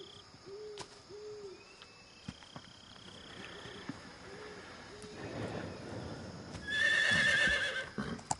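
A horse in Metal Gear Solid 3 gives a couple of short whinnies near the end, over steady ambient game atmosphere with insect-like chirps and faint hooting calls.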